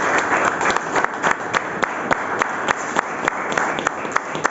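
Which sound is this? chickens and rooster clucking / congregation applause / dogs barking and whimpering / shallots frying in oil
congregation applause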